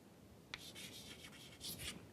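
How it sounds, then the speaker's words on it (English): Pen or marker strokes scratch across a board or paper in short bursts, close and fairly quiet, with no talking. "let me write it here"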